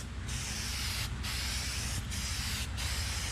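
Aerosol primer can sprayed in a light dust coat over a car panel in a garage: steady close hiss in four sustained bursts separated by brief pauses, no talking.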